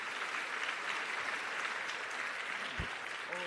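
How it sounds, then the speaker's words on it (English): Awards ceremony audience applauding: a faint, even wash of many hands clapping, heard from a distance with no distinct individual claps, steady throughout with a brief low thump near the end. "we applaud the entire family and the support systems"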